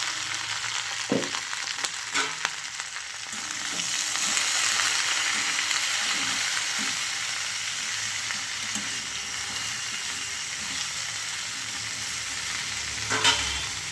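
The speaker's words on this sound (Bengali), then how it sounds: "পাশে এই যে ফ্রাই প্যানে যে চিংড়ি মাছগুলো ছিল সেগুলো আমি দিয়ে দিলাম। এবার কিছুক্ষণ নাড়াবো" Prawns frying in a pan with turmeric as they are stirred, a continuous close sizzle with occasional sharp utensil clicks and scrapes, with no one speaking.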